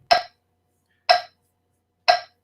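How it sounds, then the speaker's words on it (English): Three sharp, evenly spaced metronome ticks, one per second, crisp and close against silence. "that is the sound of a metronome"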